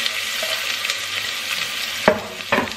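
Garlic, ginger and onion dropped into hot oil, frying with a constant close sizzle and a couple of sharp knocks of a utensil on the pan near the end, no talking.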